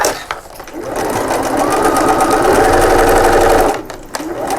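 A sewing machine stitches darts and back stitches in a continuous loud mechanical whir lasting several seconds, bracketed by brief clicks and handling noises before and after.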